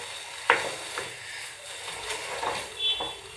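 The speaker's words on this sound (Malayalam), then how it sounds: "നന്നായി ഒന്ന് ഇളക്കി കൊടുക്കാം" A spoon stirs a pudding mixture in a pan, giving faint, scattered scrapes and soft clinks at close range against a quiet background.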